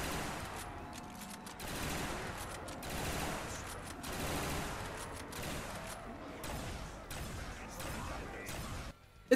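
Wall weapon firing in Black Ops Zombies on Nacht der Untoten, with rapid dense gunfire running nearly continuously amid game effects, loud and sustained before cutting off at the end.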